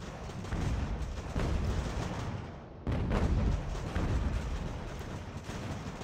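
Musket volleys and cannon fire boom from a battle in Ultimate General: American Revolution, a dense rolling roar of overlapping shots and blasts that keeps up almost unbroken, loud and heavy with a brief dip midway.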